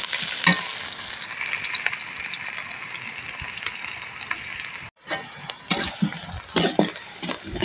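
Onions fry in a pan with a loud, dense sizzle and scraping stirs, a brief cut near the middle, then sharper clatters and spatula scrapes as the frying continues.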